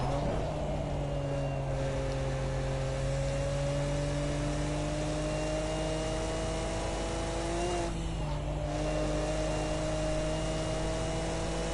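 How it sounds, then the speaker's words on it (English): Nissan Skyline R34 GT-R with a turbocharged straight-six howls steadily at speed on the Nürburgring Nordschleife, a sustained in-car engine drone with a brief gear-change dip partway through and no talking. "the raw turbo noise and the straight six engine in this thing"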